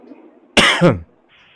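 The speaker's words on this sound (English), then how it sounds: "I was kind of coughing" A single sharp cough bursts out, rough and close, followed by a brief raspy tail, with quiet murmuring before and after.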